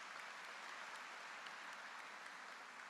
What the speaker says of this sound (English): Let's give Dr. Martin Vega a round of applause.